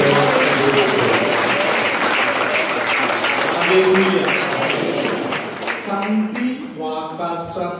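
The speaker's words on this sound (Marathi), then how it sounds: "आपण टाळ्या वाजवत" A church congregation claps together in loud, dense applause that carries on for several seconds before thinning out as a voice rises at the end.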